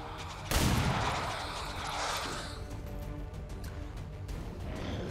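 A single loud gunshot rings out in the turn-based tactics game XCOM 2, cracking sharply and then trailing off into a long, rumbling decay over a steady game background.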